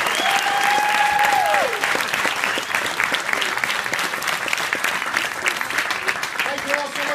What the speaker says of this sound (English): let's give a round of applause for all the students who participated here